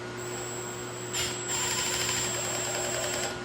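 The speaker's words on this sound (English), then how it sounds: "Try and get the screws in. This is just wood screws going through a wood paddle." A power driver sends wood screws into a wooden paddle, a short high whirring burst near the middle over a steady background hum, close and moderately loud.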